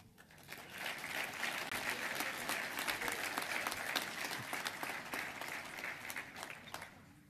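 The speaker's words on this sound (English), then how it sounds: "Let's give all the recipients of the Command Sergeant Major Retired Troy Welsh Action Award one more big round of applause." An audience at a Sergeant Major of the Army forum and awards breakfast gives award recipients a sustained round of applause, dense steady clapping lasting several seconds before fading.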